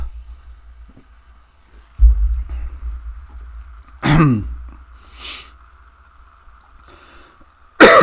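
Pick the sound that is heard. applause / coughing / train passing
coughing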